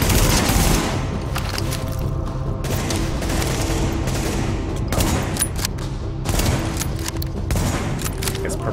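Sustained gunfire aimed at a boss in the video game The Division, dense automatic bursts continuing throughout with sharp peaks, with a voice talking faintly underneath.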